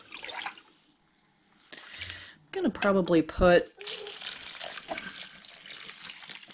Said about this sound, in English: I'm just going to take this and pour it over the top.